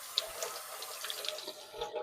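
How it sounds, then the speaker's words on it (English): Tomatillos get a quick rinse under a running kitchen tap, a steady, close hiss of flowing water with small splashes as the fruit is turned, and no one speaking. "Let me just rinse these tomatillos really quick."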